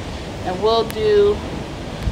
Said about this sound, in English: This is a pretty windy night out here.